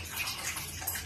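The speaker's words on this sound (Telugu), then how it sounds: "నేను కొంచెం ఎక్స్ట్రా వాటర్ వేసుకుంటా" Extra water is poured into a cooking pot, a soft, steady, hissing splash that runs continuously at low volume without pause.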